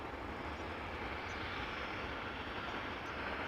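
An EasyJet Airbus A320neo landing on the Polderbaan runway at Amsterdam Schiphol after a flight from Prague, its engines giving a steady, broad, distant roar that holds level throughout with no voices.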